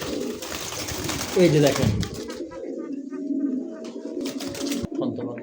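Pigeons for sale at a market coo nearby in low, rolling calls, while someone talks over them.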